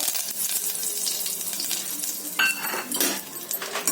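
Curry leaves dropped into hot oil in a pot, a loud dense sizzle that flares sharply partway through with bright crackling bursts, heard up close without any voice.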